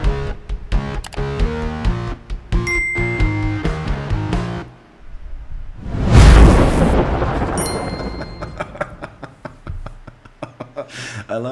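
A thunder and lightning sound effect in an intro: a loud, rumbling thunder crash bursts in midway between musical passages, then trails off under the music.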